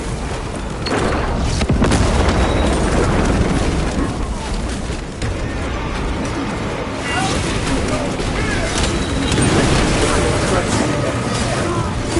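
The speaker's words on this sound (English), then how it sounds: "Melter bomb deployed." Melter bomb detonation in Warhammer 40K: Space Marine 2, a loud sustained roar of explosive rumble and debris lasting many seconds, with battle noise layered in and possible voices underneath.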